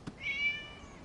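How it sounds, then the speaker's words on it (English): A single soft cat meow in the video game Genshin Impact, rising then trailing off, fairly quiet against a faint background with a small click just before it. "It was just a cat."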